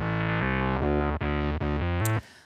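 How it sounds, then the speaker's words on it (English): Heavy distorted sub bass synth run through a distortion plugin, playing a sequence of sustained, stepped notes with buzzing harmonics, loud and dense, ending abruptly after about two seconds. "additional bass, sub bass that came with this distortion plugin"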